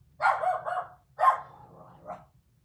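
Dogs indoors give two short bursts of barking, a rapid cluster followed by a second bark and a softer trailing yip, fairly close and clear with no talking.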